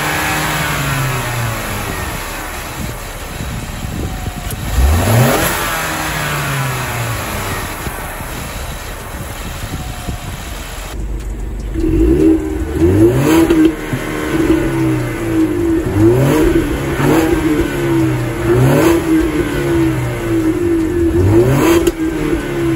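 Four-cylinder turbo engine of a Ford Mustang convertible revving in sport mode, rising and falling pitch sweeps repeating several times, loud and close with no talking.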